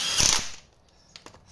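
A ratchet spanner turns during a clutch replacement, with a short burst of rapid clicking at the start, then near silence and a couple of faint ticks, close and without talk.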